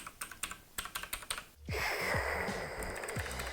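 A Thinkway Tiny Mech mechanical keyboard with blue switches is typed on in sharp, clicky keystrokes up close, then a burst of noise cuts in while the clicking continues more faintly.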